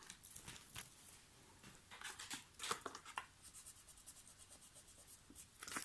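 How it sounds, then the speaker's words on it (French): An eraser scrubs back and forth over pencil marks on paper while a small Easter chocolate box is being decorated; soft, close, uneven rubbing strokes come in bursts at low volume, with no talking. "je vais venir gommer mes petites traces que j'ai fait en trop"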